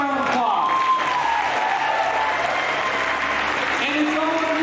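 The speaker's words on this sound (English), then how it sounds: "Give yourselves a round of applause." Audience at an annual alumni banquet applauds in a sustained, dense wash of clapping that fills the room, with cheering voices mixed in throughout.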